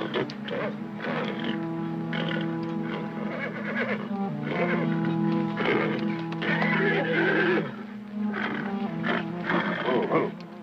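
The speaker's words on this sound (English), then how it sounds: "That cat's pretty close." A big cat roars close by in repeated, rumbling bursts, over a dense, layered bed of other animal and background sound.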